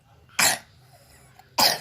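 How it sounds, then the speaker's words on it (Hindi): A child coughs twice, sharp and close, with a short quiet pause between the two coughs. "खांसी हो गई है, खांसी हो गई है।"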